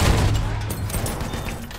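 A gas assault tank in a video game fires a rapid continuous burst, a dense rumbling roar with rattling, loud and unbroken from start to finish.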